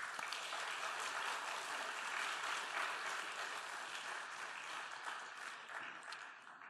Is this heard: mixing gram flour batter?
no